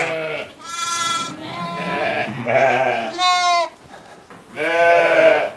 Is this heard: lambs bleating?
yes